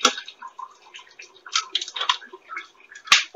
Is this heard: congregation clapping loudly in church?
no